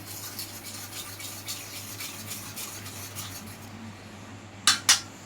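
A spoon stirs a sugar and milk mixture in a bowl with a steady soft scraping rhythm, then two sharp clinks of metal on the rim at the end.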